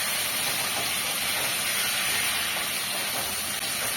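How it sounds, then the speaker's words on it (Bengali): Potatoes fry in hot oil in a pan, giving a loud, steady hiss of sizzling that stays constant throughout, with no voices. "আলুগুলো একটু লাল লাল করে ভেজে নেব"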